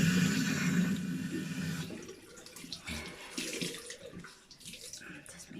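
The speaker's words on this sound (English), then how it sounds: "Okay, let's wash it off." Tap water runs steadily while a face mask is rinsed off, a loud continuous gush for about two seconds before breaking into intermittent splashes and trickles that fade in and out, with music faintly behind.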